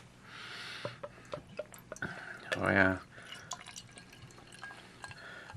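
Primator Double Bock, a dark Czech beer, poured into a glass: a short gurgling glug of liquid amid scattered drips and clinks, with someone speaking briefly.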